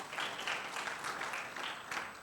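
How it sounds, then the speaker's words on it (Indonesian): Church congregation clapping during a Sunday worship service, a fairly soft, continuous patter of many hands at a distance, sustained evenly for a couple of seconds with a faint steady tone beneath. "Yang setuju tepuk tangan bagi Tuhan Yesus."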